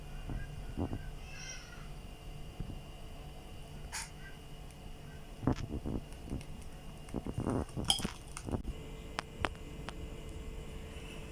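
A spoon clinks against a bowl as wet ingredients are stirred into dry for oat and banana muffin batter, in scattered sharp taps with quiet gaps between them.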